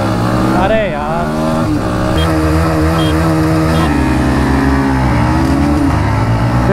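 A 2024 Bajaj Pulsar NS160 motorcycle revs hard during a drag race, its engine note rising and falling with gear changes, loud and close, while a voice talks over it throughout.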